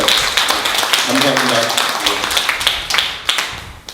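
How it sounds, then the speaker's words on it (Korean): A live audience at a political party lecture in a district office hall claps for the event staff with dense, sustained applause, and a voice speaks briefly over the clapping. "열심히 준비하느라 수고했다고 박수라도 한번 쳐주실 수 있는지 어떨까요"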